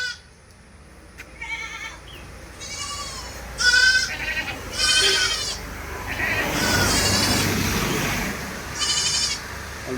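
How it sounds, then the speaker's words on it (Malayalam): A Malabari mother goat and her two month-old kids bleat in a series of loud, separate cries at close range, with quiet farmyard background and occasional faint fowl sounds between them. "ഒരു മലബാരി അമ്മയാടും അതിൻ്റെ ഒരു മുട്ടൻകുട്ടിയും ഒരു പെടക്കുട്ടിയും"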